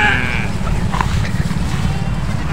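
Sheep bleat on a Boer goat farm, a brief bleat or two near the start over loud, steady wind and outdoor noise.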